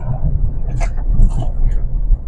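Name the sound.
vehicle passing on jungle road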